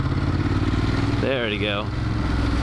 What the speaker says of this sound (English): The low RPMs on a Ducati, they tell you you're low. It can rev to the moon.